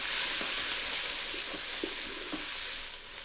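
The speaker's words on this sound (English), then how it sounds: "We're sort of gonna saute it just for about a minute." Tomato paste sautéing in the bottom of a pressure cooker pot, a soft, steady sizzle with a few faint stirring knocks, heard alone.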